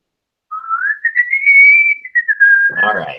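A person whistles a single sustained, gliding tune that rises and wavers for about two and a half seconds, close and clear, ending with a brief burst of noise.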